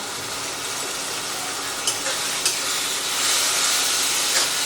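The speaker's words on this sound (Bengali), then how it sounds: "সব কিছু দিয়ে মশলাটাকে খুব ভালো করে মিক্স করে নেব। এখন মশলাটাকে মিনিট 2-এর মতো কষিয়ে নেব" Masala for a dhaba-style egg tadka stirred and fried in a pan with a splash of water, a loud, dense, continuous sizzle and hiss, close up, with a couple of sharp spoon clinks against the pan.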